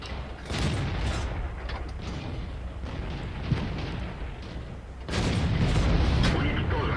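Cannon fire from a KV-1S heavy tank in a tank video game, with loud booming blasts and crunching impacts, a big burst near the end, over continuous engine rumble.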